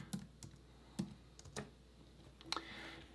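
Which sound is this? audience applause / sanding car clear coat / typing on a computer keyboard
typing on a computer keyboard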